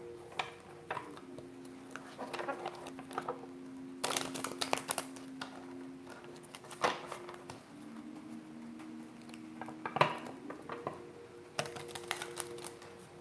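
Tarot cards are shuffled in quick papery bursts with soft riffling clicks and pauses between, close by, over a low steady hum.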